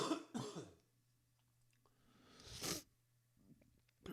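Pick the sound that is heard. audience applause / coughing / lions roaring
coughing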